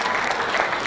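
Brief burst of audience applause during a workplace humor keynote speech, thick continuous clapping close and loud.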